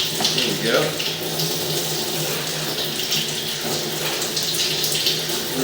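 Water running steadily from a hose to flush a sewer pipe and rinse an inspection camera, a continuous loud gushing splash with a low pump hum underneath and no clear talk.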